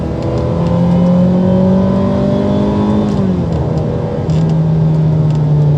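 Ferrari 355 and 360 sports cars driving on winding roads on a sunny day, a loud, close engine drone rising and shifting pitch as they rev and accelerate, steady throughout with no talk.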